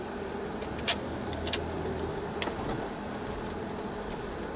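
Steady road traffic rumbles throughout, a dense, continuous wash of car and engine noise with a few faint clicks on top and no voices.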